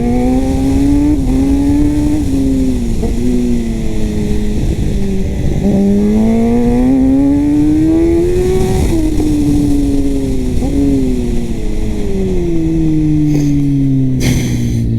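A Kawasaki ZX-10R sport bike engine rises and falls through repeated revs and gear changes, a loud, near, continuous whine climbing in pitch before dropping away at the end.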